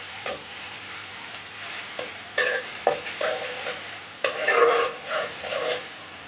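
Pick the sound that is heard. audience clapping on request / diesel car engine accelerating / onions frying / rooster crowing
onions frying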